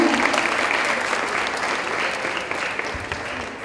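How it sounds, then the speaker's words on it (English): An audience at a United Nations Day event at a high school claps in a sustained, even round of applause that slowly fades, with scattered voices underneath. "Round of applause, everyone."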